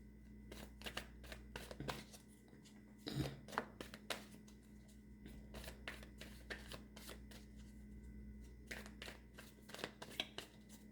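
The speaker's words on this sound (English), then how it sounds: "Let me do a couple more shuffles" Tarot cards are shuffled by hand close up, quiet crisp riffles and slaps arriving in irregular bursts over a low background hum, with no talking.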